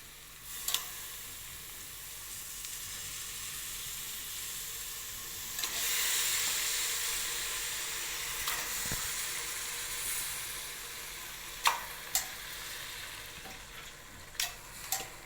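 Goat intestine frying in a pan, a steady continuous crackling hiss with a few sharp ticks and stirring clatters near the end.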